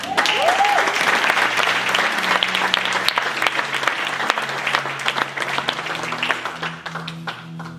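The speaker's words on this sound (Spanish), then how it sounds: "Ahí es un buen lugar para un fuerte aplauso." Wedding guests break into loud, sustained applause during a ceremony right after the vows, dense clapping filling the whole stretch with a few voices mixed in.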